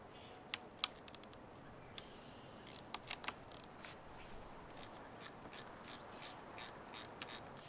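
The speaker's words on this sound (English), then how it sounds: "I'm using a ratchet wrench, and let's get this thing removed." Ratchet wrench working 8mm bolts on a 2022 Jeep Wrangler 2.0L turbo, quiet bursts of rapid clicking in short runs, then a steadier series of evenly spaced ratchet strokes.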